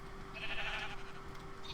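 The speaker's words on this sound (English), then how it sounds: "Do we have a black sheep?" Sheep from the Minecraft Sevtech Ages modpack, a short wavering bleat rising over a faint steady game hum, fairly quiet and heard alone without talk.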